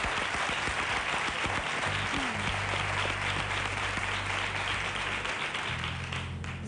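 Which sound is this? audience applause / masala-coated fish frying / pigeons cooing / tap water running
audience applause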